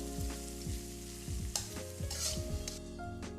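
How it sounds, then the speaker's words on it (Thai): Garlic sizzles in hot oil in a wok-like pan, a soft, steady frying crackle broken by repeated scraping stirs of a metal utensil, close and fairly quiet with no talking. "ตั้งกระทะใส่น้ำมัน เจียวกระเทียมให้เหลืองกรอบ"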